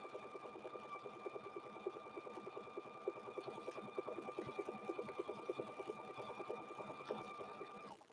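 A sewing machine stitches a seam on a quilted handbag, giving a steady, continuous mechanical whir with fine rapid needle rhythm that runs at an even level for several seconds, with no talking.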